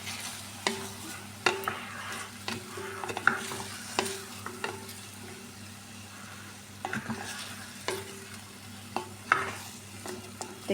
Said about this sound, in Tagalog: At imekos-mekos ulit natin siya.